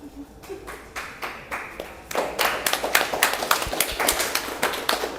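Hands clap close by, a few spaced claps at first, then a quicker, steady run of sharp claps that grows louder.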